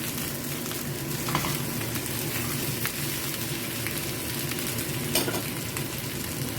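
Potatoes sizzle and crackle steadily in a frying pan as they are fried for a vegetable stew with meat, a continuous close, even hiss with occasional light stirring clicks and no voices.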